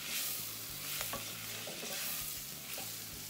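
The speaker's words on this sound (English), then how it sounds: "and a half a teaspoon of turmeric. Just stir that in good." Onions sizzle in a pan for mejadra as turmeric is stirred in, a quiet continuous hiss under a few spoon scrapes and taps, with a low hum beneath and no talking.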